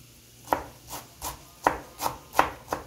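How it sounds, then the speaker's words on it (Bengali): A knife chops salad vegetables (lemon, cucumber, tomato and onion) on a board in a series of about seven crisp, close, evenly spaced strikes, with no talking. "এই যে মিশারির আব্বু সুন্দর করে আমাকে সালাদ কেটে দিচ্ছে।"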